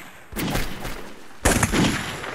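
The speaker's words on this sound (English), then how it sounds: "Let's shoot those cannons, they don't need to go on the cannons." Gunfire in the video game Mount & Blade: Blood and Iron, two bursts of musket volleys crackling in quick succession, loud and dense, with no talk.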